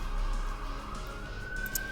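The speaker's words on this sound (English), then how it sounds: "there goes the obligatory siren that manages to show up in every single one of my videos" A passing emergency vehicle siren outdoors, a faint wailing tone that slowly rises in pitch under a low background hum, sounding distant rather than close.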